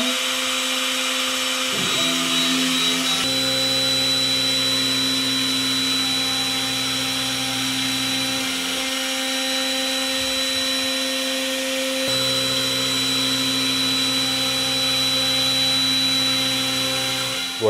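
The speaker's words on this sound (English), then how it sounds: "started a cutting job to clear pretty much as large an area as the machine can reach" A CNC router clears a waste board with a 60mm two-flute straight bit, giving a steady loud machine drone with layered tonal hum and a high whine, the pitch shifting in distinct stages as the cut progresses; no talking.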